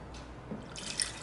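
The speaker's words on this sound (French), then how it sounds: "On va procéder à un dernier rinçage du bécher en rinçant bien les bords" A glass beaker gets a final ethanol rinse around its edges, giving faint, brief drips and trickles of liquid over a quiet background.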